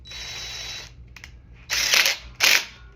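Metallic clicks and two sharp ratcheting rasps from an Allen wrench tightening bolts on a Stalmach Rocky Berg sled, close and crisp with short pauses between turns.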